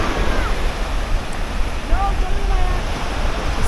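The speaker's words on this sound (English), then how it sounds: "you can hear the waves without all the noise from the wind." Ocean waves on Varadero beach in Cuba, a continuous broad wash of surf with some wind rumble, close and fairly loud, with a few faint voices in the background.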